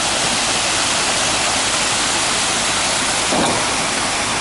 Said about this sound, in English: I'm sure you guys can hear the waterfalls in the background.